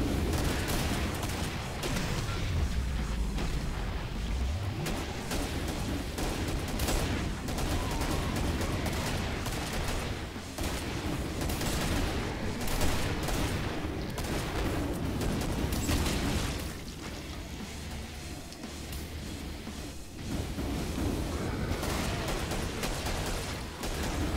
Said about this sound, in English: Shooting pretty much at the exact same time, so they are getting a double headshot.